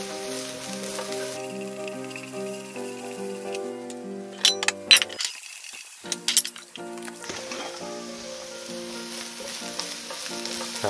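Carrots for japchae stir-fried in a pan over medium heat, with a steady soft sizzle and a burst of clinking stirring strokes midway, over quiet background music.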